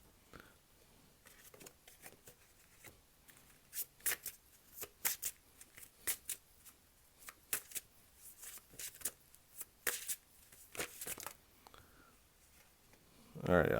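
Tarot cards shuffled by hand in a quiet room, a run of soft crisp riffles and flicks in uneven bursts, fairly close, with a louder rustle at the end.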